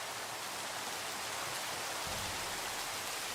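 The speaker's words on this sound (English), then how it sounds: "We'll listen to a little bit of rain." Steady rain falls in the Minecraft video game, a soft continuous hiss of drops heard alone at low volume, with a faint low rumble joining partway through.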